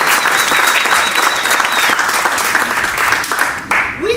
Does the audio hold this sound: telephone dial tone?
no